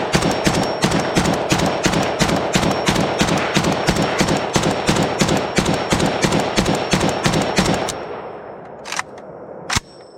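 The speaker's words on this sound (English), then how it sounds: "First shots out of the Jack using a WBP mag." Rapid semi-automatic gunshots from a Polish WBP Jack AKM rifle fed from a modern green WBP magazine at a range, about twenty evenly spaced loud cracks in a steady rhythm, then a pause and two final shots.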